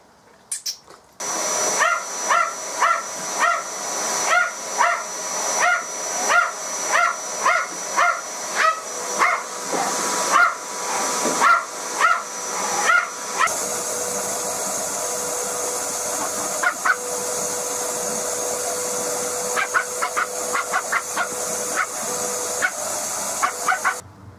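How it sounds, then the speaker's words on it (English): A Hoover vacuum cleaner runs steadily and loudly while a dog nearby barks in a regular series of sharp yaps over the motor's hiss, then the barking thins out as the vacuum keeps roaring. "You like the Hoover, don't you, Jess?"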